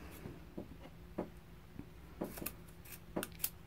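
Scissors snip along the top edge of a T-shirt being cut apart for a quilt, producing a handful of crisp, close cutting clicks at an uneven pace against a quiet background.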